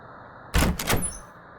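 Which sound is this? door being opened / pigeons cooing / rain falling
door being opened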